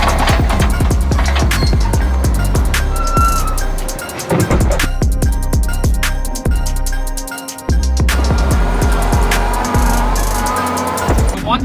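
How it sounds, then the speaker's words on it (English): A skid steer moves dirt on a dirt bike track, its motor whining and revving close and loud, dipping and rising with scattered clanks. "it's really hard to like fine tune stuff here in the skid steer. But it does a great job at moving dirt."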